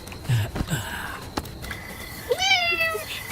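A house cat in a village home gives a clear, rising-then-falling meow near the end, preceded by soft shuffling and small knocks close by.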